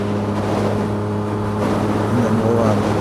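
Yamaha FZ-09 motorcycle exhaust while riding, a steady low engine drone with strong harmonic hum that swells slightly toward the end, loud and continuous with wind noise.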